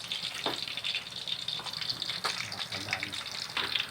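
Ukoy fritters frying in hot oil, a steady bubbling hiss with occasional louder crackles and splashes, fairly close, while a voice talks faintly in the background.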